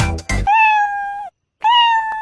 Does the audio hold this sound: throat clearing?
no